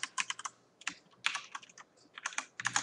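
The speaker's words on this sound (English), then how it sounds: "if I could type it correctly right now" Rapid clicking of computer keyboard keys being typed in short bursts with brief pauses between them, close and fairly quiet, with no voice.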